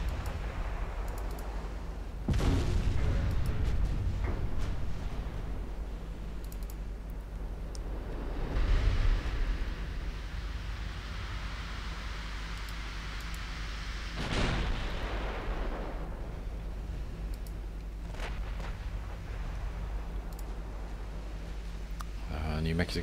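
Naval guns firing shells in Ultimate Admiral Dreadnoughts, a battleship engagement with USS New Mexico: deep booming blasts at intervals over a continuous rumble, with someone narrating throughout.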